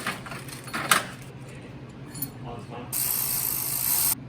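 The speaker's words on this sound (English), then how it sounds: "It's time to use this to torque the head bolts." A torque wrench ratchets while tightening engine head bolts on a Land Rover Freelander: a few clicks, then a steady close, loud metallic buzzing ratchet run that stops abruptly.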